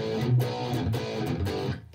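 Thick, distorted electric guitar power chords ring out in a steady, dense wall of sound with a few rhythmic accents, played alone with no talking.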